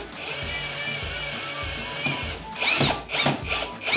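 A power drill drives screws to reinstall a loose shelf on drywall anchors: a steady whine runs for over two seconds, followed by several louder, shorter bursts as the screws seat, close and with no voices.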